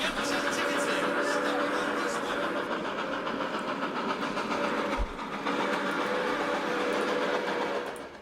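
A train runs along rails with a steady, continuous rumble and rhythmic clatter that holds for several seconds, one brief thump partway through, with a voice talking faintly underneath.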